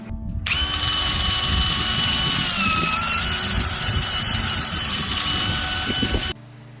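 A loud, steady high-pitched whine from a power buffing wheel running against a horse's hoof wall, holding for about six seconds before cutting off abruptly.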